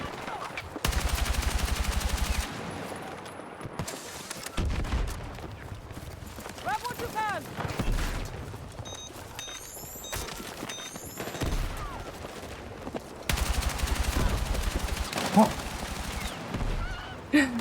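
Gunfire in a video game comes in bursts of rapid automatic fire, loud and repeated, across the whole stretch. Other game noises and a talking voice run between and over the shots.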